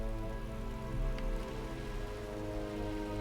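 Rain patters steadily in Final Fantasy XII: The Zodiac Age, a soft, even hiss laid over a low sustained hum, with no talking.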